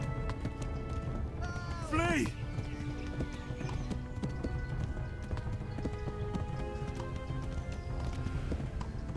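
Video game horse hooves clip-clop at a steady gallop, with a whinny and continuous game sounds and effects around them while someone talks over the action.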